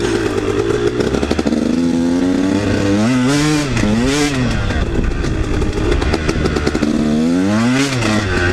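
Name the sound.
KTM 150 dirt motorcycle engine riding in mud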